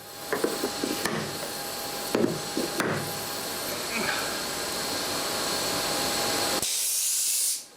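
Oil and air shifting inside a gas strut during a homemade recharge through a Schrader valve mod: a steady hiss with scattered crackling clicks and gurgles, then a sharp jump to a loud, bright spraying hiss near the end before it cuts off.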